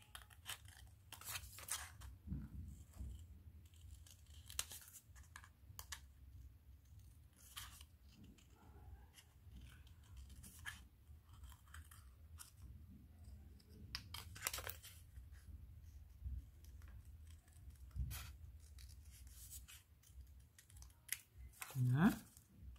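Scissors cut paper for a scrapbook photo album, producing faint, sparse snips and rustles spread over a long stretch alongside quiet handling noise.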